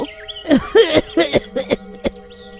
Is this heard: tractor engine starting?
no